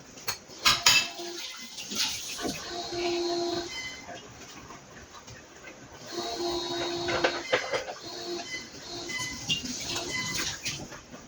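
A baking pan used for banana cake is rinsed with water and no soap, giving clattering metal knocks and scrapes over running water in two busy bursts separated by a quieter stretch.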